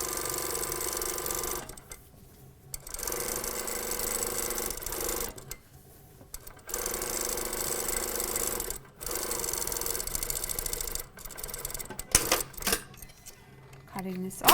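A sewing machine runs a stay stitch along a skirt panel in steady whirring bursts of a few seconds each, broken by short pauses and ending with some handling clatter.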